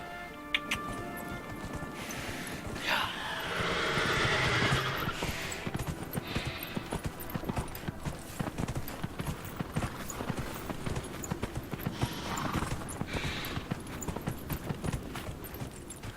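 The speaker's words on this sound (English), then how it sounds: "I'm taking my horse." Horse in the video game Dragon Age Inquisition galloping with steady rapid hoofbeats throughout, with neighs and whinnies rising above the clatter.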